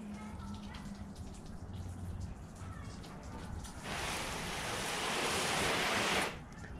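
A garden hose nozzle on its shower setting sprays water onto a car, a broad soft hiss that starts partway through, holds steady and loud, then cuts off near the end.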